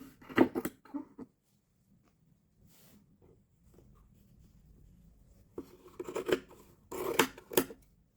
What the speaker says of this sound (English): this seems like it's going to be a bit too long, so we'll just cut it down there.